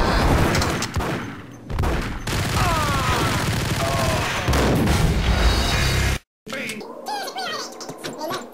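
Dense bursts of gunfire from the shooter game Max Payne erupt in a loud, sustained barrage mixed with booms and game effects, broken by a brief silence before scattered shots and rattling resume.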